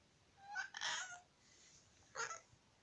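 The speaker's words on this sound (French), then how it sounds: "des fois c'est des petits miaulements qu'elle fait" A small cat gives two soft, high meows, a short pair followed by a single call after a pause, in an otherwise quiet room.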